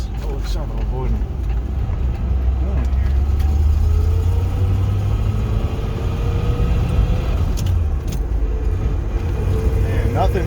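A 1966 Corvette with a 4-speed Muncie gearbox drives slowly over a rough road, a low steady engine rumble from inside the car with scattered rattles and bumps, while someone talks over it.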